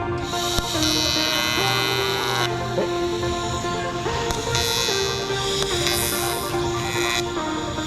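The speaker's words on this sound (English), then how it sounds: "So got the welder over here, got it all fired up, got it marked, it's welded in." A welder fires up on a C8 Corvette drift car chassis during fabrication, giving a loud, steady electric buzz and hum that runs unbroken through the whole stretch with no talking.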